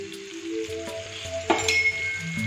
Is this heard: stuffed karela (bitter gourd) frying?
yes